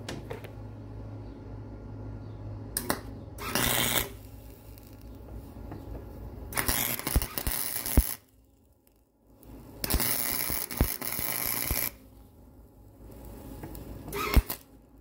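A cheap flux core welder lays down tack welds in several buzzing, crackling bursts of a second or two each, with quiet gaps between them. The work is close by and there is no talk.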